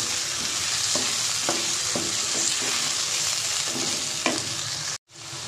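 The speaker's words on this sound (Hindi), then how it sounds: "इसको मैं लहसुन के साथ फ्राई करके निकाल लूँगी।" Beef liver frying with chopped garlic in a pan, a steady loud sizzle with a few faint stirring clicks, ending in a brief silence.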